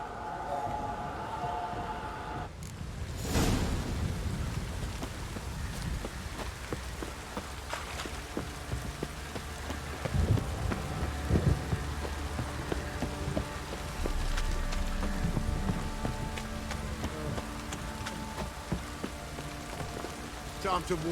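A heavy rain downpour in the video game The Witcher 3 hisses steadily and broadly, with scattered thumps and impacts over the constant wash of water.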